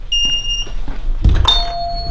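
A Mobula7 2S whoop racing drone sends out high, steady electronic beep tones in two separate bursts, with a soft thump and handling noise between them.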